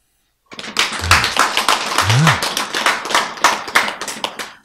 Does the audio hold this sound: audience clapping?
yes